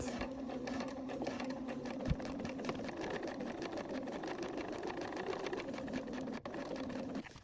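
A sewing machine runs steadily while stitching a straight seam on a top, a continuous close mechanical whir with rapid needle ticking and a brief pause near the end.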